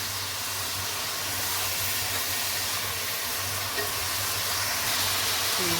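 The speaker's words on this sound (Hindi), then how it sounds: "चिकन को यहाँ पे भून लेना अच्छे तरीके से।" Chicken browning in a pan for pulao gives a steady, close sizzling hiss throughout, with a low hum underneath and no talk.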